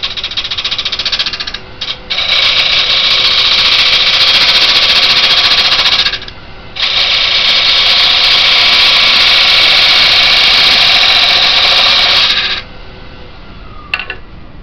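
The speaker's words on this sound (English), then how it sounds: "So I'm just using a spindle gouge." Spindle gouge cutting a hollow-form wooden piece on a lathe, a loud steady scraping hiss sustained for long stretches, broken by two brief pauses and ending in short touches of the tool.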